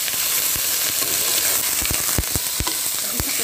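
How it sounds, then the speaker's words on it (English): Ginger and garlic sautéing in hot olive oil, a loud continuous sizzle and crackle punctuated by several sharp pops and spatula scrapes, close up with no talking. "I'm going to saute my ginger and garlic until the aroma come out."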